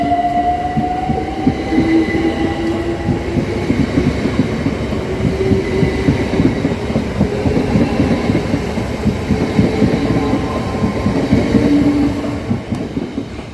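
A train at Erith railway station rolls past close by with a loud, continuous rumble and rhythmic clickety-clack of wheels over rail joints, plus faint squealing tones; nobody speaks.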